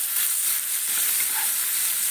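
Chopped tomato fries with a pinch of salt in a hot pan, giving a continuous close sizzle and hiss that stays level throughout with no talking.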